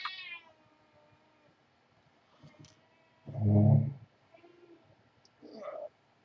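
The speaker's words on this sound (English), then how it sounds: "This is my cat, Ashley." A pet cat named Ashley meows loudly and close in one strong, drawn-out call, with a few softer vocal sounds and a shorter second meow following in an otherwise quiet room.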